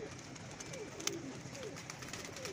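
Pigeons on a rooftop loft coo softly amid steady background noise, with a few low, rolling calls spread over a couple of seconds.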